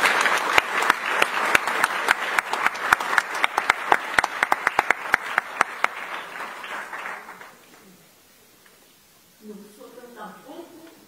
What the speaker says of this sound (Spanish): Para él también un aplauso